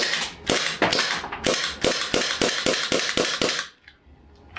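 An HPA airsoft pistol, chilled by cooldown, fires a quick run of about a dozen sharp, close snapping shots in an uneven rhythm, then falls quiet apart from a faint hiss.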